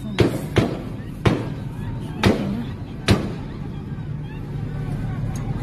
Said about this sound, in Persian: تیر هوا میزنه